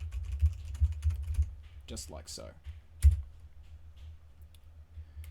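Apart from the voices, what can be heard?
typing on a computer keyboard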